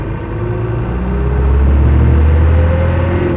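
Land Rover 90 with a 200Tdi diesel engine, heard from inside while driving as the turbo boosts, a loud, steady drone that rises slightly in pitch with a thin turbo whine over it, no talking.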